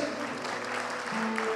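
An audience at an album launch night claps in a dense, continuous burst of applause, with a faint steady tone running underneath.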